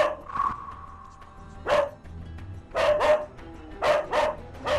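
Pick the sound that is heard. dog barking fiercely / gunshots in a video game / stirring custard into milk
dog barking fiercely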